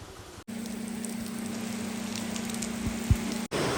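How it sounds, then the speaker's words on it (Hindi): Heavy rain pours in a dense, steady hiss on a rural farm road, loud and unbroken for a few seconds, with a low hum underneath and no voices. "फुल बवाल बारिश हो रही है भाई लोग"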